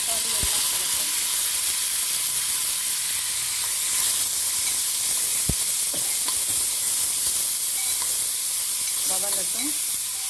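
Broad beans and chopped tomatoes frying and being stirred in a pan for instant sambar, a steady close sizzle with occasional spoon scrapes throughout.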